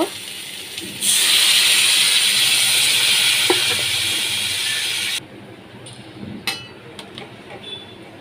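Water poured into a hot pan of egg cooking with Kashmiri chilli powder, a loud sudden sizzling hiss lasting about four seconds and then cutting off, followed by faint clinks.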